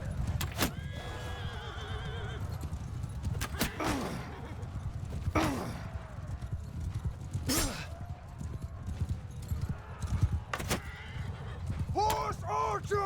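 Horses neigh and whinny repeatedly amid a steady clatter of hooves in the steppe-warfare strategy game Khanqueror, with battle noise filling the background and someone talking over it.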